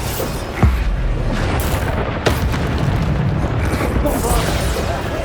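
The Bombarda explosion spell from the Hogwarts Legacy video game erupts in a loud, continuous rumbling blast, with a couple of sharp booming impacts and dense noise throughout.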